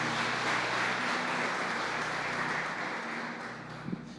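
A church congregation applauds steadily at a Spanish-language Christian service, a broad sustained wash of many hands that tapers slightly toward the end, with no talk over it.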